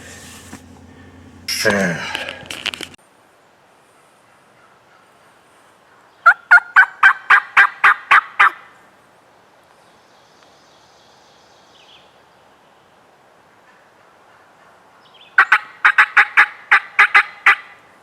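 A wild turkey gobbles in Vermont woods. Two rapid, rattling bursts of gobbles are separated by a long quiet stretch, after a brief louder sound at the start.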